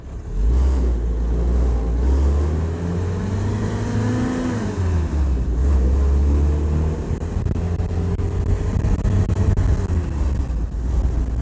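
A 77-year-old rebuilt Jeep with a freshly repaired transmission drives along, its engine droning loud and close while the revs rise and fall through gear changes, with wind buffeting the microphone.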